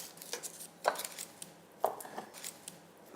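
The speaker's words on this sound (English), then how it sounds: "crush a few garlic cloves, just smash them up, leave the skins on" Garlic cloves with skins still on being smashed on a kitchen board: two firm, close thuds about a second apart among lighter knocks and taps, quiet between strikes.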